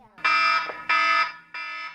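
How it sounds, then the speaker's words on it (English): A clock alarm goes off in three loud, bright electronic bursts, each about half a second long with short gaps between them, and no other sound around them. "Is the alarm clock going off too early?"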